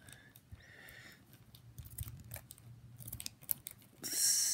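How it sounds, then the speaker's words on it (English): Scissors snip and rustle against a mail-order package from Amazon being cut open, a run of short crisp cuts and crinkles close by, ending in a louder burst of tearing. "scissors"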